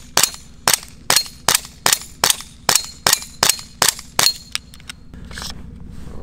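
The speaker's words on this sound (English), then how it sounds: "Obviously it's a gas pistol." A GHK Glock 17 gas pistol fires about a dozen sharp, loud shots in a steady rhythm, each a crisp crack with a brief tail, followed by a softer hissing rustle at the end.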